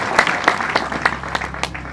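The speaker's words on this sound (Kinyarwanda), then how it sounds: "Amashyi menshi ku Mana" A congregation claps at a celebration in a parish church in Ruhuha honouring a reverend pastor. Close, fairly rhythmic claps sound in regular sharp bursts across the whole stretch.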